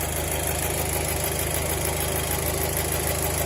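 Car engine running at idle, a steady, dense rumble with an even mechanical hum throughout, loud and close with no voices.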